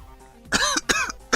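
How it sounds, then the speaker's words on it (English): Three or four sharp, close coughs come in quick succession, harsh bursts with a raspy throat-clearing quality and brief gaps between them. "you'll have to forgive my cough"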